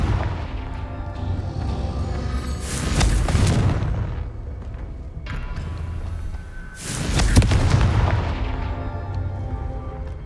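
Two loud Confringo spell blasts in Hogwarts Legacy burst about four seconds apart, each a broad, crackling explosion over a steady background hum.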